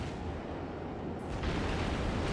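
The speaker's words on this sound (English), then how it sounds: "This battleship is firing at me." Battleship guns firing in World of Warships, a dense, rumbling roar of heavy naval artillery that swells slightly partway through, with no talk.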